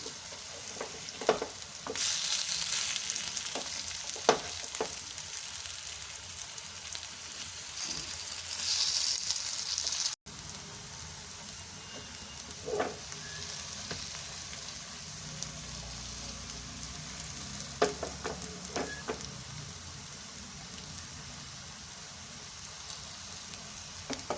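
Potatoes frying in a pan, giving a soft, steady hiss close by. A few scattered scrapes and taps come as the pieces are turned, and the frying continues alone without voices.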